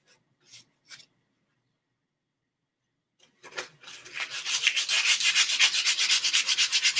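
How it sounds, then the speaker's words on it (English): Sandpaper worked over a computer desk: a few short isolated scrapes, a pause, then fast, steady back-and-forth rasping strokes that grow loud and rhythmic, close by with no talking. "take this side, I'm really trying to get sanded smooth"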